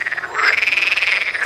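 Frogs croak in a zoo pond during the breeding season, a steady run of rapid, pulsing calls that swell in the middle of the stretch, fairly close and loud, with no talking over them.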